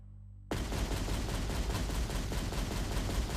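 Dense gunfire and explosions from the 2006 first-person shooter Black on Xbox and PS2: a loud, continuous roar of shooting and blasts that bursts in suddenly after half a second of low rumble and keeps going without a break.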